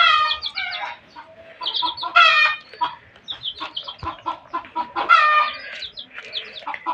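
Six-day-old chicks cheep and cluck close by in a rapid, uneven chorus of high chirps with brief pauses, no voices over them.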